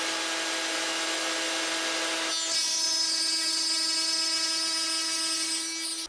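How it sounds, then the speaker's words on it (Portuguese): A router bit spins up with a steady high whine, then bites into wood to cut a 1 cm deep groove down the middle. The cut adds a rougher, louder tone, sustained and close until it stops near the end. "a hora que a fresa entrar na madeira, ela vai entrar exatamente no meio"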